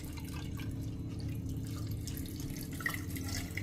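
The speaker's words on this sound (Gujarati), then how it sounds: "આ આદુ ડૂબે ને એટલું પાણી અંદર નાખી" Water pours into a container over fresh ginger pieces with a soft, steady trickle and splash, close and fairly quiet over a low hum, and no one speaks.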